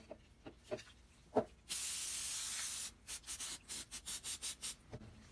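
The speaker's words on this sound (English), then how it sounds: "Let's clean this bad boy up. Carb cleaner." Carburetor cleaner sprayed onto a Briggs & Stratton carburetor: one sustained aerosol hiss of about a second, followed by a string of short, close spray bursts, with faint handling knocks before it.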